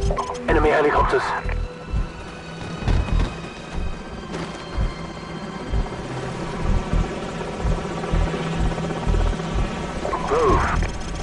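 Enemy helicopters in the Call of Duty 4: Modern Warfare PC game, a steady rotor drone running throughout under game speech, radio chatter and scattered battle noise.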